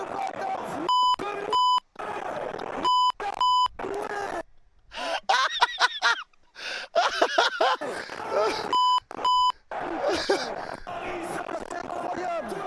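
Repeated censor bleeps, steady pure tones, cut in and out of excited, shouting French speech during a football match reaction, arriving in short bursts of several beeps with talk filling the gaps between them.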